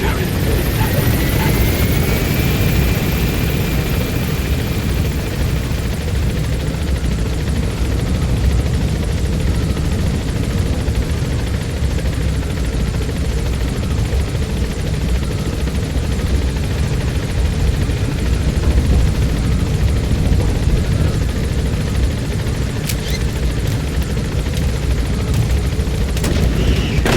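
Helicopter climbing in Metal Gear Solid 5 The Phantom Pain, a loud continuous rotor and engine roar with dense low rumble that stays level throughout, close up and dominant.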